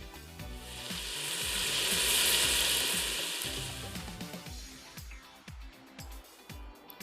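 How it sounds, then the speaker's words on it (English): Chicken thighs browning in olive oil in a pressure cooker, a bright sizzle that swells and then fades, broken by repeated scraping and stirring clatters in the pot. "I am going to brown the chicken thighs on both sides."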